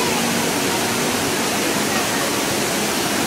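A waterfall gives a dense, steady hiss of falling water throughout, loud and unbroken, with no voices over it.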